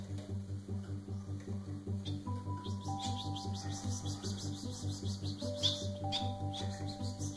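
A Bengalese finch sings indoors in soft, rapid chirps and short whistled notes, quite faint, over a steady pulsing low mechanical hum.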